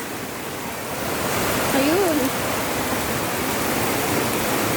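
Rushing floodwater after a full day of rain, a steady broad roar of high, fast-moving water up close, with a person speaking briefly over it.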